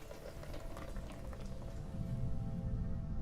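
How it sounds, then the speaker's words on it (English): Steady hissing, crackling patter of acid rain from the video game The Wolf Among Us, falling continuously at an even, moderate level with no talking over it. "It's acid rain."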